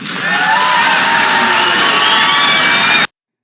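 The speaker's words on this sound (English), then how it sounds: "that applause there goes on for 20 seconds" A large crowd at a Bobby Kennedy campaign speech cheers and applauds in a loud, sustained roar with whoops and shouts, cutting off abruptly near the end.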